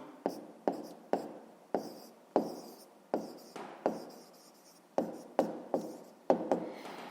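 A pen scratches out an answer on paper up close, with short repeated strokes, each a quick rasp that fades, falling in an uneven rhythm of about a dozen marks.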